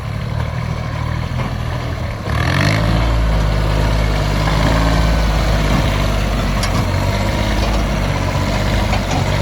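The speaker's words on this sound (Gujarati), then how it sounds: "હવે આપણે ટ્રેક્ટર લઈને જવાનું છે" A deep, steady tractor engine rumble idles throughout and grows heavier and louder after about two seconds, then holds a continuous low drone.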